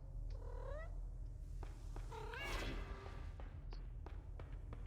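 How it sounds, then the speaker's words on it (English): A video game cat purrs softly while being petted, a low continuous rumble under faint chirping calls and a few light taps. "Let's pet the cat."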